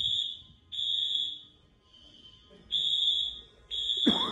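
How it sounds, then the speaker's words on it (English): Loud, shrill pulses from a fire alarm going off in an office ring out one after another with brief gaps, ending in a sudden clatter. "This is quite a fire alarm."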